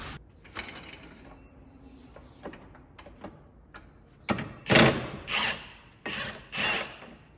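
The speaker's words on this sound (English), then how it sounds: "just unbolt this bracket and see if I can't sag the whole subframe" Wrench work unbolting a bracket on a Mazdaspeed 6 subframe: scattered quiet metallic clicks, then several louder, closer ratcheting bursts near the end, with no talking.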